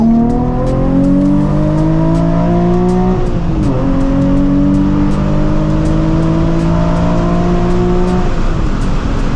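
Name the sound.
Nissan 350z accelerating hard in a second gear pull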